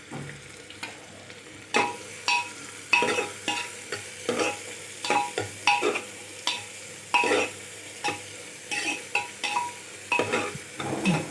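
Chopped onions sizzle in hot oil while a spatula stirs them in steady, repeated strokes, each scrape clinking lightly against the pan, close by with no talking.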